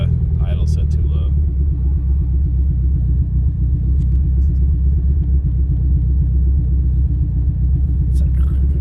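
A Eunos Miata engine idles low and too slow, giving a loud, steady, deep rumble close by that runs throughout. Brief voices are heard over the idle.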